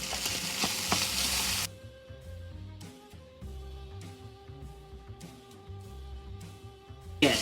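Ground turkey and roasted butternut squash cook together in a pan as a wonton filling. A loud sizzle at first drops to a softer, steady frying hiss, with light clinks and scrapes.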